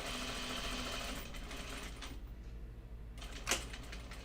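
A serger stitching lace onto underwear fabric, running continuously at a quiet, steady mechanical whir with a brief dip in the middle and a small clunk near the end, no talking.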